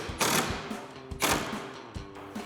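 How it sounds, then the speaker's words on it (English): A 5mm Allen socket on an impact driver tightens clamps for a roll-up tonneau cover on a 2017-2026 Ford F-250, giving two close, short buzzing, ratcheting bursts roughly a second apart. "Now to tighten these down, you can either use a 5mm Allen socket on your impact"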